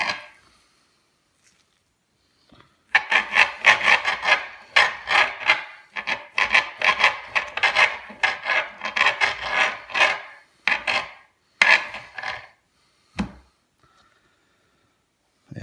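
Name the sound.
knife slicing raw beef into steaks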